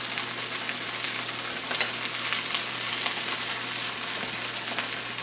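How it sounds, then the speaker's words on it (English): Fresh mushrooms cooking down in a pan, an even close sizzle with small intermittent pops as their liquid cooks off, steady throughout with no talking. "It's cooking down good now. You can see them popping a little bit."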